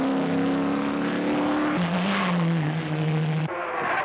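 Race cars at the 1968 Hardie Ferodo 500 at Bathurst drone past at full throttle, with a steady loud engine note that drops in pitch as they move away. No voices are heard.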